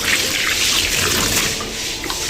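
Water poured into khoa dough for gulab jamun, a steady close splashing and trickling pour lasting a couple of seconds, with no talking.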